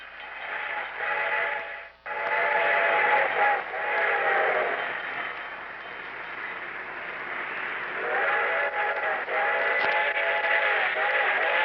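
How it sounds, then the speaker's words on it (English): An approaching train rumbles along in a radio drama, with a harmonic whistle or horn sounding in long repeated blasts, fairly loud and continuous over the noise of the rails. "The train was coming closer. I could hear its bell ringing and the cry of its whistle."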